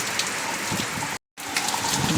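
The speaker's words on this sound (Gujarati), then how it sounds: "પાછો વરસાદ આવી ગયો છે" Rain falling steadily on surfaces, a dense, loud hiss of drops continuous throughout apart from a sudden brief cut to silence midway.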